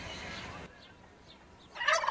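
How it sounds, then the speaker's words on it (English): A domestic turkey gives short gobbling calls, a rough burst at the start, a few faint chirps in a quieter stretch, then another loud close gobble at the end. "What sound does a turkey make?"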